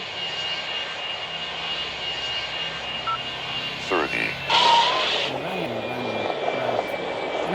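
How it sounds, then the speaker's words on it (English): Airliner engines during landing in the flight video game Airline Commander, a steady loud engine drone throughout with a brief rise near the middle; a faint voice may sit under it. "We are coming for landing."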